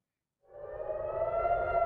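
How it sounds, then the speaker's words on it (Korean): An air raid siren starts up abruptly after silence and holds a loud, steady wailing tone, sounding across the dark night sky over a low rumble. "캄캄한 밤하늘에 공습 사이렌이 울려 퍼"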